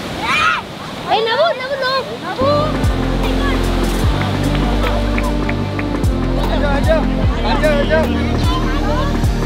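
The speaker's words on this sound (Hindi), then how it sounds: "बाप रे लहरें क्या चल रही है, गजब की" Sea waves surge and wash along the Mumbai seaside, a loud continuous roar under lively music, with people's voices talking and calling nearby.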